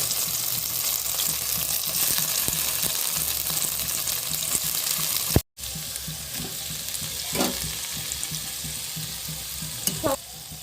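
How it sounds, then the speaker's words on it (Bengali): Steady sizzling of paneer frying in white oil in a wok over low flame, a dense continuous hiss with a brief dropout midway and occasional light clatter. "সাদা তেল দিয়ে আমরা পনিরগুলোকে ভালোভাবে একটু ভেজে নেব"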